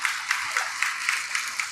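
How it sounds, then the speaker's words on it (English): An audience at an announcement of new buses for Brampton Transit gives a round of applause, a soft, fairly distant patter of clapping with a few louder individual claps standing out. "Round of applause."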